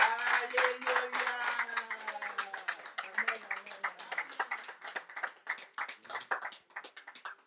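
A church congregation claps and cheers in praise of the Lord, dense rapid hand claps mixed with voices, loud at first and thinning toward the end into more scattered claps.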